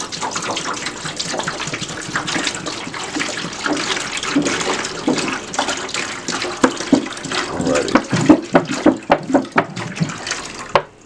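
A gallon of tap water pours into a container at close range, a steady gushing stream that turns into loud, irregular glugs toward the end as the jug empties, with faint talk underneath.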